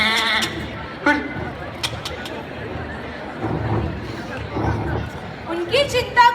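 A goat bleats during a school play, with a wavering bleat at the start and a cluster of bleats near the end over a murmur of audience chatter and voices.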